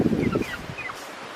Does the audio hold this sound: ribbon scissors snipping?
no